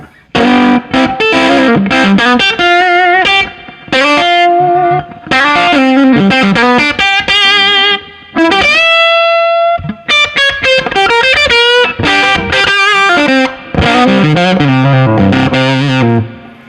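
Electric guitar played alone through a vintage Magnatone tube amp with the tone rolled well back, distorted, effected chords and phrases ringing out loudly, broken by short pauses.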